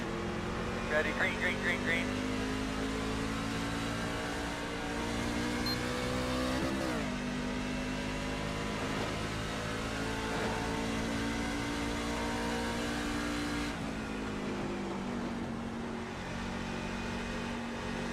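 NASCAR race car engines at Phoenix roaring through a restart, a steady loud in-car drone with engine pitch climbing and shifting as the car accelerates, with speech over it.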